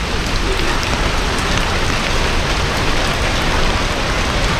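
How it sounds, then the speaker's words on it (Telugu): Heavy rain pours steadily at an outdoor spot near Thumboormuzhi Dam, a dense, even hiss of drops hitting surfaces that never lets up, with no voices. "సో వర్షం ఎక్కువైతుంది, వెళ్ళిపోతాం."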